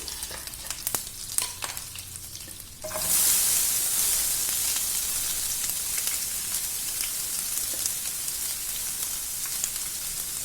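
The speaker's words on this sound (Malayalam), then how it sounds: "ഇനി നമുക്കതിലേക്ക് സവാള ഇട്ട് കൊടുക്കാം." Sliced onions frying in an oil-filled pan for pepper idli, a steady loud sizzle that bursts up as they hit the oil after a few quiet clinks, then holds evenly without talk.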